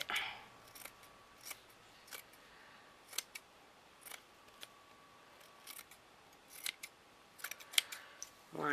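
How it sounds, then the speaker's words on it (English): Scissors cut around a doily flower in a series of short, crisp snips spaced at uneven intervals, close and fairly quiet, over a faint background hiss. "I'm just going to cut around it"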